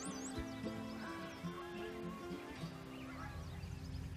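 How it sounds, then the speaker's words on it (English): Geese honk repeatedly in flight at a distance in the Idaho mountains, a scattered chorus of calls rising and falling over faint background noise. "Here come the geese again."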